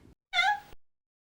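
A cat gives a single clear meow, close and distinct, standing alone as a storybook sound effect with silence before and after.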